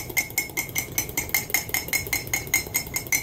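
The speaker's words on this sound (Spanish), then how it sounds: "Pero hoy le estoy batiendo los huevos con azúcar." Eggs whisked by hand with white sugar for a grape juice punch, a steady rhythmic metallic clinking of whisk against bowl at about four strokes per second, close and alone.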